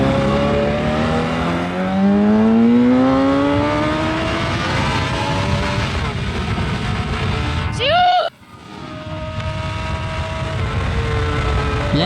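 A 2009 Suzuki GSX-R 600 sportbike revs and pulls hard through rising gear runs, with a sharp sweep and brief drop as it shifts or passes, engine loud and close with a rider speaking over it.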